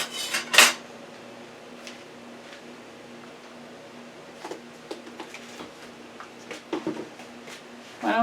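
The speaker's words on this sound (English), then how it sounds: "I'm going to be using 2 spatulas to turn it" Two spatulas clink and scrape against a frying pan while turning fried stuffed chicken egg rolls, with a few sharp metallic clatters spaced among quieter taps over a faint background hiss.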